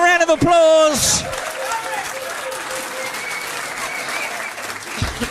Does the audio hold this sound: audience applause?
yes